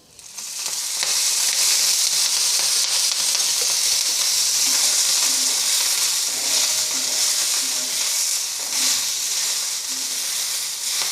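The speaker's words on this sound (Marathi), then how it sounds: "तेल टाकल्याने बावची लवकर भाजते." Bavchi spice roasting in a little oil in a pan gives a loud, dense, continuous sizzle and hiss close up, with faint stirring underneath.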